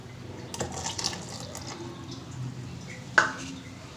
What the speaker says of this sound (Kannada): ಇದಕ್ಕೆ ಇನ್ನೊಂದು ಬೌಲ್ ನೀರು ಸೇರಿಸ್ಕೊತಾ ಇದ್ದೀನಿ